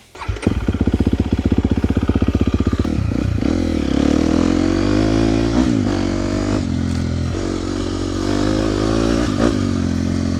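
A 2024 KTM 250 XCF dirt bike with traction control off: a rapid idling putter gives way to loud, close engine revving and acceleration that rises and falls with gear changes, with some clatter along the way.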